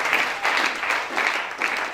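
A church congregation applauds, broadband clapping swelling and easing in several waves over a couple of seconds, close and fairly loud, with no voices standing out.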